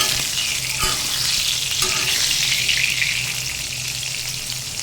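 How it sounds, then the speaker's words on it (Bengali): Eggplant slices seasoned with salt and turmeric frying in oil in a wok give a steady, loud, bright sizzle that carries on without a break, with a couple of faint clicks from the pan. "এদিকে কড়াইয়ে তেল দিয়েছি বেগুনটা ভাজি করে নেব"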